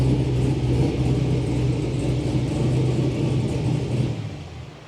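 A classic pro-touring car's engine idles with a loud, steady low rumble through open electric exhaust cutouts in a shop, holding a continuous throb before easing off near the end.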